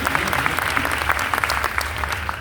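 An audience applauds at a university gathering, a dense, steady burst of many hands clapping at close range, filling the whole moment without voices.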